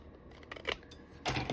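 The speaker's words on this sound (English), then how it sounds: "Then I'm going to take my scissors" Scissors trim paper for a memory album: a few short, crisp snips and rustles, close and fairly quiet, spaced unevenly over about a second and a half with no talking.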